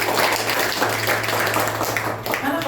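Worshippers at an Indonesian Sunday church service applaud, giving continuous dense clapping that fills the room at an even level throughout, with a low steady hum underneath.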